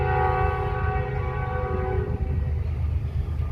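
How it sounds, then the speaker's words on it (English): Train horn blaring loud and close beside railroad tracks in rural Kentucky, steady sustained tones over the heavy rumble of a passing train, the horn cutting off partway while the rolling rail noise continues. "Oh, here comes a train."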